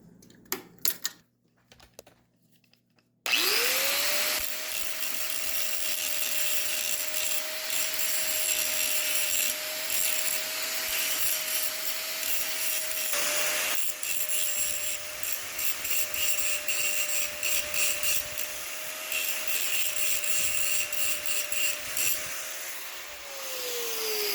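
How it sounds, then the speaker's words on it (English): Angle grinder grinding down welds on a mini excavator, starting abruptly and then a sustained loud, close, steady whine with a gritty scraping texture, holding pitch for about twenty seconds before winding down. "We'll leave that on while I do some grinding."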